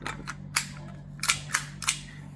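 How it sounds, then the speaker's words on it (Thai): A Marui Hi Capa 4.3 gas airsoft pistol, running on 12 kg gas, dry-fired with no BBs loaded: a quick series of sharp, close snaps and gassy clicks in an irregular rhythm over steady background hum. "ลูกไม่มีนะครับ เคลียร์แล้ว ยิงนะครับ"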